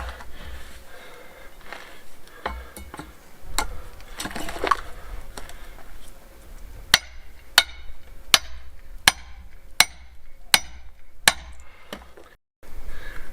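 Green firewood is being split at a renovation site, with sharp, loud chopping strikes landing in a steady series of about eight blows after some quieter knocks and handling noises.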